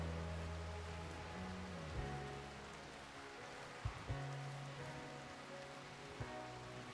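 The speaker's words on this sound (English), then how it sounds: "psychic rain literally fucking people up" Steady psychic rain in the video game Rimworld, a continuous soft hiss of falling rain with low droning game tones underneath and a few faint thuds, no talk.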